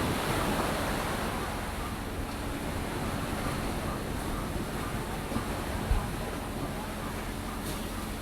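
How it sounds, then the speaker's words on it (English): Ocean surf rolls in a constant, full wash of breaking waves with some wind noise on the microphone, steady throughout, with no voice over it. "Listening to the sound of the ocean."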